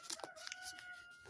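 A rooster crows nearby in a few rising, strained bursts, fairly faint and thin, with brief clucking-like calls around it and no one speaking.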